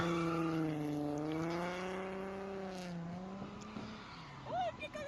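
A Holden Commodore with locked diff, lowered springs and exhaust spins out at a drift event, its tires giving a long wavering squeal that slides downward over a steady engine roar, then fades into rougher, choppier noise.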